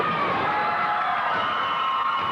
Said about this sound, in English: Let's hear the crowd, Matt.